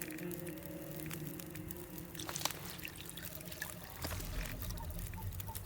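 Drinking water in the survival game The Long Dark, a liquid pouring and trickling sound with small drips, steady at moderate level, and a fuller gurgle toward the end.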